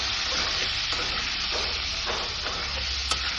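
Steady loud sizzle of vegetables frying in a pan with salt and turmeric, with a spoon scraping and stirring in repeated strokes every second or so.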